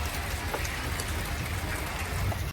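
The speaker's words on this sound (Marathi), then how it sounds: "असं वारा येतोय लगेच पाऊस येतोय, वारा येते पाऊस येते" Steady rain with gusting wind outdoors by a water-filling spot, a dense continuous hiss with low rumble running evenly throughout, fairly loud and close, with no voices.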